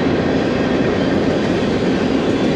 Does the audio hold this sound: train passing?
yes